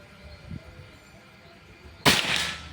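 A single sharp report from a Predator Pajero Gen 6 air gun, fired during an accuracy test, bursts out loud and broadband after two seconds of quiet room tone and rings briefly as it fades.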